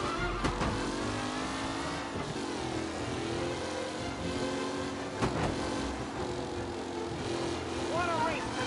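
Race cars speeding around a track in a 1930s-era race in the game Mafia: Definitive Edition, engines droning and revving steadily with a couple of sharper passes, while a commentator talks over the noise.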